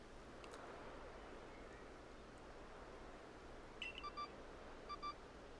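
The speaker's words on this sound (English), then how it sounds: "There's a glowing beeping object over there." A beeping object in Pokemon Legends: Arceus gives two short clusters of faint electronic beeps over a low steady ambient hiss, with no talk.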